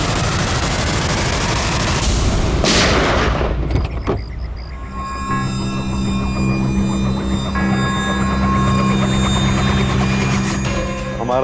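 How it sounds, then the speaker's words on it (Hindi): A revolver shot rings out in a Hindi crime TV drama, a loud broadband crack near the start followed by a sharp second burst and a lingering roar, then a steady tonal hum with music-like drones filling the rest. "लो रिवॉल्वर और चलाओ गोली"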